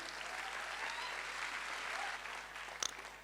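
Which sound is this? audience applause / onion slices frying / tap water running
audience applause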